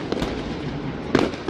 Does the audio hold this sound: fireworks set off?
yes